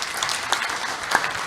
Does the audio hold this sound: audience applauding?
yes